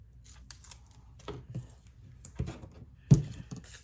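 Tape is pulled and applied by hand during scrapbooking, with quiet intermittent rips, dull thunks and light paper handling at close range in an otherwise quiet room.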